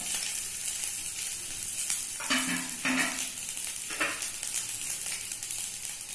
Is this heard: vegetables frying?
yes